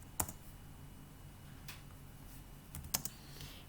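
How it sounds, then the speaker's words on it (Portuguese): Key presses on a computer keyboard, a few faint, sharp clicks, one early and a pair near the end, over a quiet room hum with no talk. "Vou dar um enter aqui."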